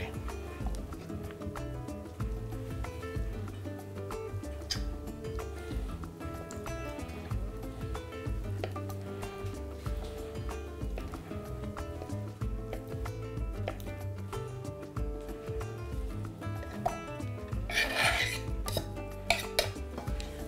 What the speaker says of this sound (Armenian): Ռոկֆոր պանիր կտրատում ենք փոքր խորանարդիկների